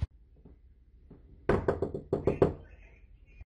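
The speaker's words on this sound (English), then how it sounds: "I'm just gonna knock on the door." Knocking on a door: a quick, firm run of about seven raps close to the listener, in a mostly quiet room.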